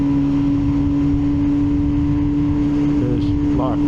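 An MV Agusta Brutale 1000 RR motorcycle rides on the Assen circuit, its engine a steady, loud, droning hum that holds a constant pitch with a brief rise near the end, while a voice talks over it.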